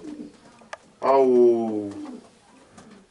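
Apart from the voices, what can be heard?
racing pigeons cooing in a loft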